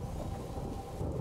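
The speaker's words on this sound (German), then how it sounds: "Keine Sorge, der Sturm übertönt unsere Stimmen." Heavy thunderstorm rumble with steady rain in the medieval game A Plague Tale: Innocence, a dense, loud low roar filling the whole short moment with no voices.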